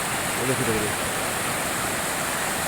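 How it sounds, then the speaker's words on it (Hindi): A raging river floods a mountain village in the monsoon rain, its constant roaring rush of water loud and close, with someone speaking briefly over it. "इतनी नदी, इतनी भयंकर नदी"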